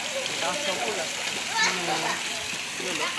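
Children swim and splash in a pool, with water sloshing continuously beneath lively, close children's voices talking and calling out.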